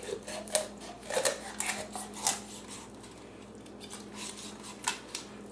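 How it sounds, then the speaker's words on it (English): A knife cuts down through a raw chicken breast during a chicken breakdown, giving a run of close, light clicks and scrapes against the board, irregular and fairly quiet. "We're going to go ahead and take the knife and just cut down."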